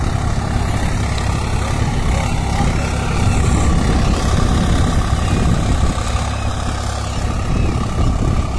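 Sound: Swaraj 744 XT tractor engine running

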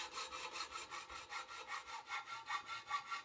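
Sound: hand sawing an aluminium profile

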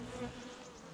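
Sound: honey bees buzzing on the hive during winter inspection

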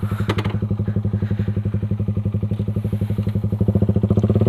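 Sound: Suzuki Raider 150 motorcycle with Creed exhaust pipe

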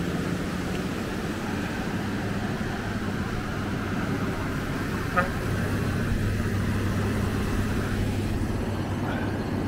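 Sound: garbage truck driving past

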